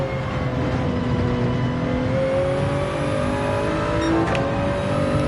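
A DS 9 race car in Gran Turismo 7 roars at high revs through a corner on the Nürburgring during an endurance race, the steady engine drone climbing slowly in pitch, loud and unbroken with no voices.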